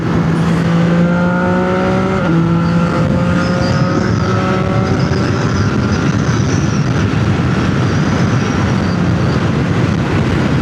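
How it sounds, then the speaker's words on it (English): A loud, droning motorcycle engine with an aftermarket exhaust louder than stock roars steadily with rising and falling tones as it accelerates through gears, heard close up. "that stock exhaust compared to this one, this sounds way louder"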